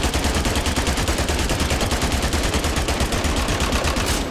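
A weapon in the Spectre Divide video game fires in a long, rapid, evenly spaced burst of loud shots, sustained without pause for over four seconds.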